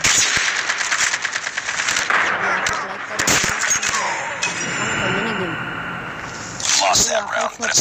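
Automatic gunfire in a first-person shooter, rapid rattling bursts mixed with metallic clinks and game effects, loud and close, while a person talks over the action.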